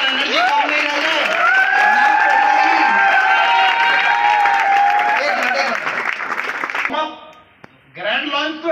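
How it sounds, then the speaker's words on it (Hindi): An audience at a business launch event in North India claps and cheers loudly, with whistles and shouts over sustained applause that fades out near the end, followed by a voice speaking. "भाई तालियों की गूंज और एनर्जी कम नहीं रह जाए।"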